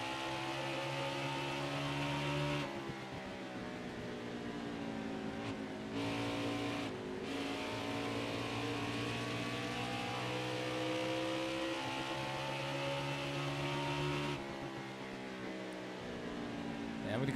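Engines of AI-controlled NASCAR stock cars at Iowa in the NASCAR Heat 5 racing game, a steady layered drone of revving motors with shifting pitch that runs throughout, with a voice talking over it.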